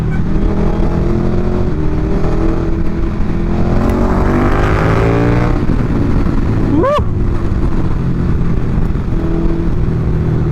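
A KTM Super Duke motorcycle accelerating hard, its loud engine note climbing through the gears with rising whine, a sharp shift around the middle and steady wind-blasted roar continuing close by.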